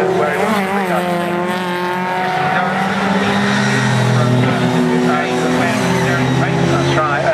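Race cars howl around the Cadwell Park circuit in a 2010 race, engines whining and shifting pitch as they pass at close range, with continuous commentary talking over them throughout.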